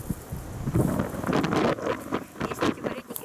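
Wind buffeting a microphone outdoors by the Volga river, a steady rough rumble with gusting surges throughout and no voices.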